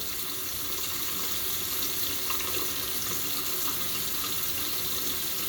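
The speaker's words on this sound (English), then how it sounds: "And I know I got the water running." Tap water pours continuously into a sink, a steady close splashing rush with no pauses.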